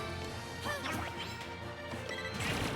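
A forward smash in Super Smash Bros. Ultimate hits with a sharp crash amid swooshing effects and steady game music, followed by more whooshes and impacts.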